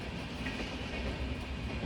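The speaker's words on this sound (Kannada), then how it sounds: "ಟ್ರೈನ್ ಹೊಂಟೈತಿ ಯಾವುದೋ ಊರಿಗೆ." A passing train gives off a steady, dense rumble with faint wheel clatter throughout, heard from a distance and with no voices.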